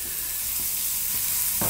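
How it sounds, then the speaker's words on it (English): Garlic dropped into a hot pan for shakshuka sizzles in a steady, moderate hiss, with a few soft stirring knocks and a sharper burst near the end, no talk. "just as that's heating up, we're going to drop in our garlic"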